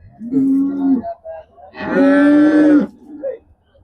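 Cows moo loudly at the Karungalpalayam cattle market in Erode, two long bellowing calls close by, a shorter one then a longer, fuller one, with faint background noise between.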